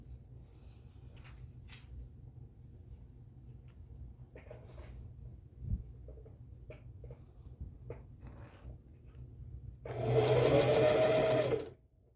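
A sewing machine stitches a seam in pajama pant fabric, running in one steady, fairly loud burst of about two seconds near the end after quiet handling noises.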